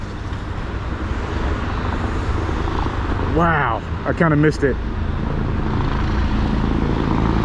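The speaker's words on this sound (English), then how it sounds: "that's the lowest I've ever seen a helicopter" A low-flying firefighting helicopter droning overhead while it drops water on ash, a steady broadband rotor and engine roar that fills the whole stretch, with brief excited talk from a nearby person in the middle.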